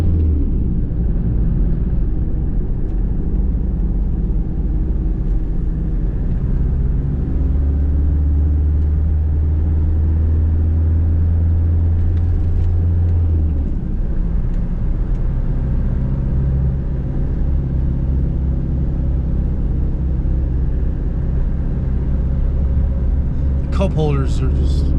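A 1990 Toyota Hilux pickup cruising on highway 285, steady low engine and road rumble from inside the cab with a shift in drone midway, and voices talking over it.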